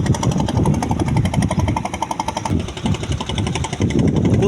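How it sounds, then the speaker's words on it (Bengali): Engine boats pass one after another on a branch of the Jamuna river at the Hargila embankment, their motors putting out a loud, rapid mechanical chugging that swells and eases as they go by. "এই যে দেখেন একের পর এক নৌকা চলছে।"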